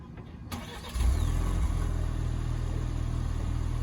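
A 2023 Ford Explorer Timberline 4WD SUV cold-starts: a short crank, then the engine catches with a loud rise and settles into a steady, close idle rumble.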